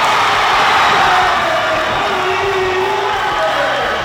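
A basketball crowd roars after a three-pointer at a Montclair game, a steady, loud wash of cheering and shouting that fills the gym and holds without a break.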